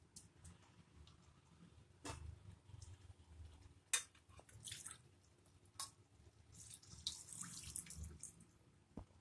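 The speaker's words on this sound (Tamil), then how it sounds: "இப்போ இதுக்கு தேவையான அளவு தண்ணி சேர்த்துடலாம்." Water poured from a vessel into spiced rice for egg biryani in a pressure cooker, a soft trickling splash with small clinks, fairly faint and alone.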